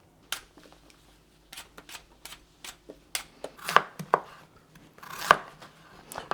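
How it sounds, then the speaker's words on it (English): A knife chops potatoes into smaller pieces for mashed potato on a cutting board, giving irregular sharp close taps with a few louder knocks against the board, with no talking. "we're cutting these to the smaller pieces for our mashed potato"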